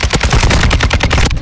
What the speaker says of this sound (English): I shoot up three of them